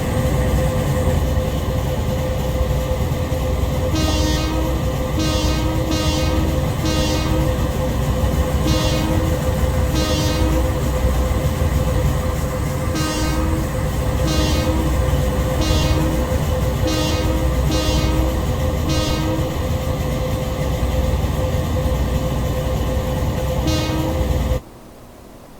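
MLW M420 diesel locomotive in BC Rail livery in Train Simulator Classic, with a steady, loud engine drone and hum. Repeated tonal chirps or squeals rise over it at intervals, and the sound cuts off sharply at the end.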